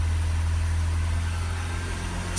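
A Renault Trafic 1.6 diesel engine hums steadily as its revs sag back toward idle, a continuous loud low drone with no voices over it.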